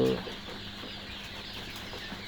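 Tiger chickens cluck softly in a steady, low background murmur, close by, with no talking.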